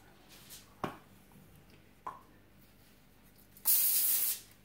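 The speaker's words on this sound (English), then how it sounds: "I just sprayed some Pam on there" Cooking spray from an aerosol can hisses onto a foil-lined cookie pan in one short, loud burst of about half a second, after a couple of faint clicks in a quiet room.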